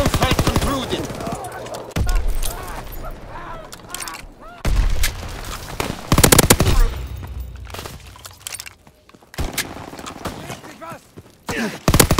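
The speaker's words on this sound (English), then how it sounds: "Strafing run inbound." Fighter aircraft strafing run in Call of Duty WW2 multiplayer, with loud rapid bursts of machine-gun fire and heavy impacts in several waves, mixed with other battle noise and game voice callouts.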